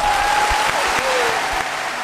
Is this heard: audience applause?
yes